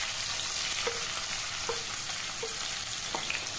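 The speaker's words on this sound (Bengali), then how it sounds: "করলাগুলোকে আগে ভেজে নিতে হবে।" Bitter gourd pieces frying in hot mustard oil make a continuous close sizzle, with light utensil taps from stirring at regular intervals and no speech.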